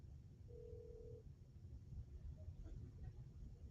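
A ringback tone on a call-in radio show's phone line: one short, steady tone burst, faint and thin over a constant low rumble of line noise.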